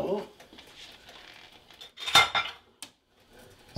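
A metal spoon scrapes and clinks against a pot while turkey congee is stirred, with one louder clatter midway, as people talk over the cooking.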